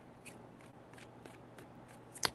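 Tarot cards being shuffled by hand in a quiet room, a series of soft, quick riffling bursts at a steady pace that end in one sharper, louder snap of cards, close and faint, with no talking.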